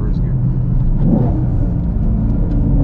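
A Camaro SS 1LE pulls hard in first gear with traction control and rev matching off, a loud deep engine roar and rumble filling the cabin, building steadily, with a voice under it.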